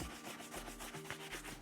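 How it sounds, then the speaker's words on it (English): Horsehair brush sweeping across leather RM Williams Comfort Craftsman boots to clear off dirt, a close, soft rhythmic swishing of repeated strokes with no talking. "So with your horsehair brush, just brush it off."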